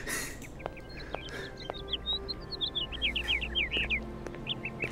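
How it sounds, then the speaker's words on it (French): Birdsong from the video game Syberia, a run of quick high chirps and twittering calls over a soft ambient background, fairly close and steady, with no one speaking. "le bruit des oiseaux"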